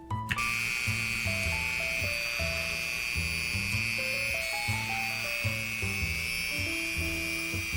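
A 0.5 mm diamond bit routes a small hole into the top of a rough opal being cut into a drop pendant. A steady, high, thin whine runs throughout over a soft, stepping background melody.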